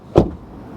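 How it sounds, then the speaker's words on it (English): The door of an MG ZST car is shut once, a single close, solid thud followed by a soft rattle and quiet interior hush. "and when you close the door"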